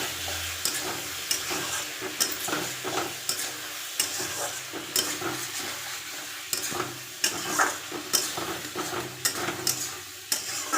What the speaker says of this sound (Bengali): এটা ভালো করে এখন কষিয়ে দেখো ঝিঙাগুলো পুরো গলে গেছে।